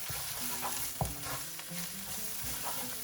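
Chopped bell peppers fry in a cooking pot for a bean and wheat soup, giving a steady close sizzle broken by stirring scrapes and a sharp clank of the utensil against the pot, with no talking.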